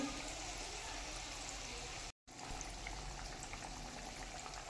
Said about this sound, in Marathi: एकदम खुसखुशीत क्रिस्पी अशी मीडियम फ्लेमवरतीच भाजून घ्यायची आहे